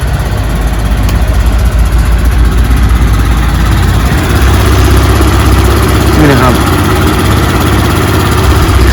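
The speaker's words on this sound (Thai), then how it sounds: "ผมฟังเสียงเครื่องครับ ตัวนี้เครื่องฟรีดีมากเลยนะครับ" A used 200cc three-wheeler engine idling, a loud, steady, close mechanical drone with a constant low throb and vibration, while someone talks over it.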